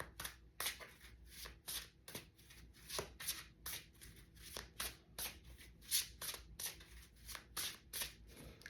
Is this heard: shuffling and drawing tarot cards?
yes